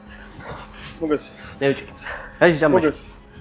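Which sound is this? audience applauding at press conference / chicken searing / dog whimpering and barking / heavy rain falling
dog whimpering and barking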